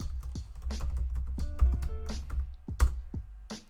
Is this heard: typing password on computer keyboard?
yes